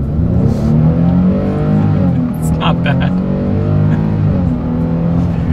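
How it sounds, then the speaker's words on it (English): A 2024 Nissan Frontier SV pickup pulls away from a standstill onto a road, its engine note climbing steadily as it gains speed, heard from inside the cab while a person talks over it. "let's see how quickly we can get our new 2024 Nissan Frontier here up to speed"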